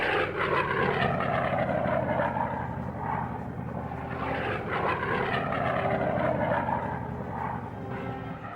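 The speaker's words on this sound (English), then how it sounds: "these P-47s are in a hurry to join the fray" P-47 Thunderbolt fighter planes fly overhead with a steady, rumbling propeller-engine drone, loud and continuous with slight swells in pitch, with no talking.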